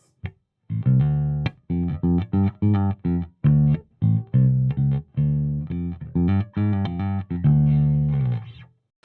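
A clean bass guitar through a bass amp's clean channel plays a sequence of separate, punchy notes with short gaps between them, close and fairly loud.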